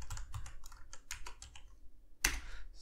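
Typing the kernel.org web address on a computer keyboard: a quick run of light, crisp key clicks for about two seconds, a short pause, then one louder final keystroke like Enter, close and alone.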